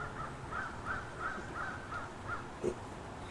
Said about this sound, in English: The birds are attacking each other or something.